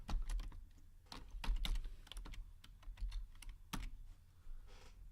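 Numbers are typed on a computer keyboard as a quick, uneven run of close, crisp key clicks with brief pauses between bursts.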